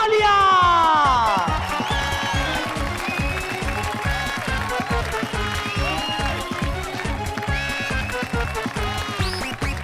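Audience applause on a children's fantasy television show starts under a rising musical sting, then continues as rhythmic clapping beneath a steady, pulsing music beat.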